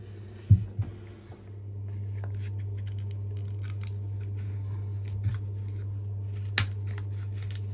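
A plumber snipping through a rubber part, giving a sharp cut near the start followed by a few fainter clicks over a steady low hum, close by and without speech.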